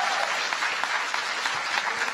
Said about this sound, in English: I do appreciate so much that you applaud that